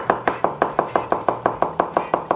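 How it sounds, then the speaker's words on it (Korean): A knife cuts Korean green onion on a cutting board in a fast, even rhythm of about fourteen sharp, close chops over two seconds, with no talking. "자, 반으로 갈라서 파기름을 내줄 거기 때문에"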